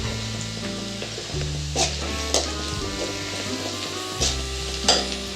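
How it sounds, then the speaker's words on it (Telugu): Garlic fried rice with turmeric, salt and chili is stirred in a hot frying pan. There is a steady sizzle throughout, with the scrape of the spoon every second or so, and a faint tonal background underneath. "మనం ఉప్పు కారం కలిపి పెట్టిన రైస్ కూడా వేసేసి కలిపేస్తాం ఇది మొత్తం కలపాలి"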